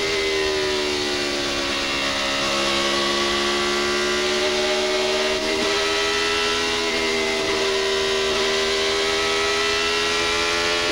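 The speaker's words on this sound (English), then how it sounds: "You can hear him have to get out of the throttle for traffic, and that really kills your momentum." Indy car engine heard on board during a race, a loud high-pitched whine that dips and recovers as the driver lifts off the throttle for traffic, sustained throughout without voices.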